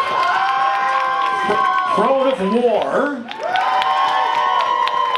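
Audience at the Q92 Rock Band Rumble cheering and clapping for rock bands, a loud, close crowd roar with shouts and whoops under an announcer's voice.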